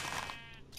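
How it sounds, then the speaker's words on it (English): Sheep bleating in the video game Minecraft, a short, fairly loud call with a wavering tone that tails off, then a brief second bleat near the end. "Sheep."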